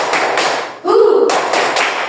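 Students in a classroom clap their hands on cue, sharp taps and thuds breaking around a louder burst midway, with a teacher's voice nearby.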